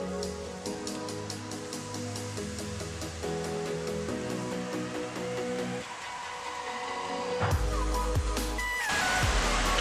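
Ribbon pakoda dough drops into hot oil and fries with a bubbling hiss that swells loud and close in the last few seconds, following quieter tonal background sounds.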